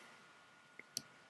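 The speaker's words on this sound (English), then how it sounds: "You move it by clicking the left button and holding it down." A computer mouse's left button gives two quick, faint clicks in a quiet room, a soft tick followed by a sharper click a moment later.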